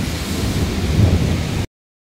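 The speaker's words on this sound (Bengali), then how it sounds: "আবার মেঘও ডাকছে বিশাল জোরে জোরে।" Loud thunder rumbles through heavy rain at an outdoor wedding venue, a dense, continuous roar with a deeper swell midway before cutting off abruptly.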